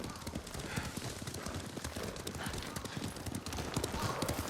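Horse hooves clip-clop steadily and close in Ghost of Tsushima, a dense, continuous patter of many hoofbeats from the riders' mounts, with no talk over it.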